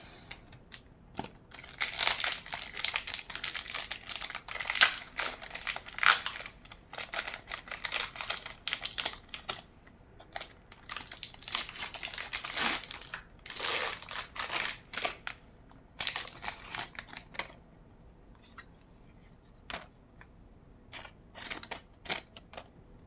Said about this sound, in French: je vais ouvrir les boosters et on verra après